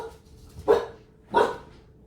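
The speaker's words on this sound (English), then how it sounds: "we had a visitor and my dogs went crazy" Two loud, sharp dog barks about half a second apart, heard indoors with a quiet pause between them and no talking.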